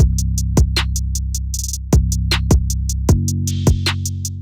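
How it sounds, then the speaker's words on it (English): A drum loop with deep sustained bass hits and crisp hi-hat strikes ringing open in a steady pattern, loud and alone. "I switch it to this open hat pattern that sounds like this."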